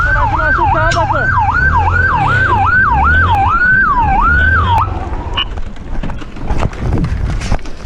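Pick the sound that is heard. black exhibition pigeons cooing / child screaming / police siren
police siren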